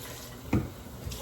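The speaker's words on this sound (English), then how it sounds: "let's wash this fork off." Water from a kitchen tap runs into a sink while a fork is rinsed under it, a soft, steady close stream with a short splash partway through.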